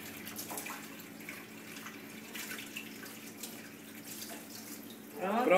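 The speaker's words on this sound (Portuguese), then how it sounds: "tá gastando muita água" A tap runs steadily while a small spoon is washed under it in a sink, the water close and continuous, rising into a louder splash at the end.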